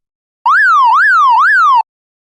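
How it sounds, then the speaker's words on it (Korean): Wailing emergency siren sweeping up and down in three smooth cycles, clean and steady, rising and falling in pitch with no other sound around it. "멀리서 들리는 다급한 사이렌 소리"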